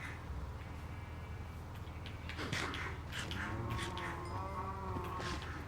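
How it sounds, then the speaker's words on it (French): Cows mooing in the Minecraft video game, several low drawn-out moos overlapping in a farm setting, moderately close under quiet background ambience. "des vaches."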